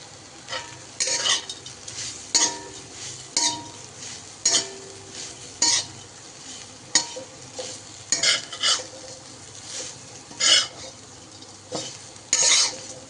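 Cauliflower fry with chili powder stirred in a pan: a spoon scrapes the pan in about a dozen separate strokes over a quiet sizzle, with short pauses between strokes and no talking.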